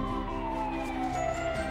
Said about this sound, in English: A fire truck! Let's go see!